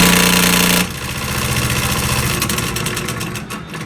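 A homemade saw runs without a blade: a loud, harsh motor whine cuts off abruptly, then a rattling mechanical drone builds as the speed climbs from low toward high, its rapid pulsing ticks quickening.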